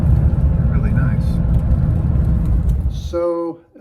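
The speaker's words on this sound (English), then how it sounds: "the car's driving great and the engine sounds great" Porsche 930 engine idles with a loud, close low rumble that cuts off sharply near the end, followed by a brief tonal chime, with speech also heard.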